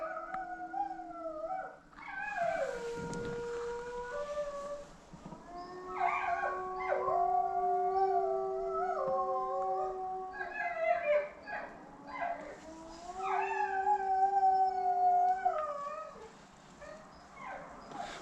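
A Yakutian wolf cub starts howling and an adult female wolf joins in, long wavering howls overlapping with whimpering yips, close and loud, in a wolf park at night.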